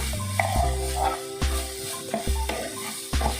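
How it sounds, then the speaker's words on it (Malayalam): Inch-long cut beans being stirred in a hot pan, with a soft sizzle under regular scraping and clanking strokes of a spoon against the metal, close by. "നന്നായിട്ടൊന്ന് ഇളക്കി കൊടുക്കാം."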